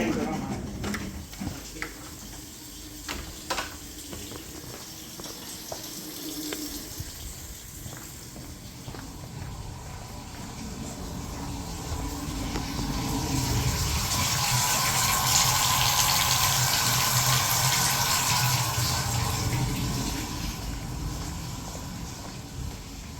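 Water runs steadily into a clogged bathtub, a broad rushing flow that swells louder toward the middle before easing slightly, with people talking over it now and then.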